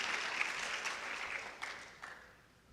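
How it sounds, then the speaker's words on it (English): Audience applause at an awards ceremony, a steady wash of many hands clapping at moderate level that slowly thins toward the end, with no talking over it. "Give her a round of applause."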